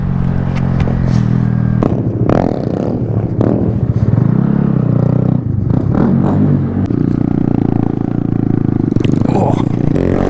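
Honda Grom mini motorcycle ridden for the first time, its small engine droning loudly and steadily with clattering, scraping ride noise throughout.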